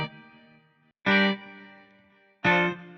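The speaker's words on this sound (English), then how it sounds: "This is the Ample Guitar TC, which is modeled off the Fender Telecaster, and we're playing the same chords as that synth pad in the beginning." Clean Telecaster-style electric guitar chords from a virtual Ample Guitar TC instrument with no effects, three separate strummed chords each ringing out and decaying, close and clear.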